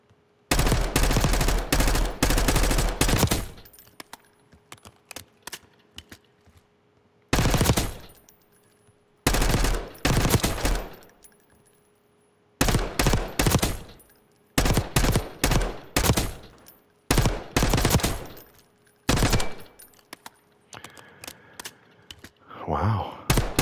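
Automatic gunfire at the firing range in the video game Black Ops 6, loud close bursts of rapid shots separated by short silences, about ten bursts in all with no talk.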